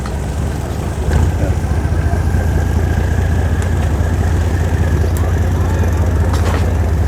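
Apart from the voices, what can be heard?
engine of the Koh Rong Sonleom passenger ferry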